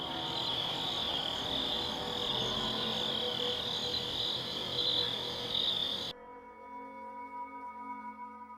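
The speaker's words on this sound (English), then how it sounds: "catches nothing but crickets chirping under a night sky" Crickets chirping outdoors under a night sky: a dense, steady high trill fills the air until it drops away abruptly, leaving a quieter, sparser night ambience for the last couple of seconds, with no talking.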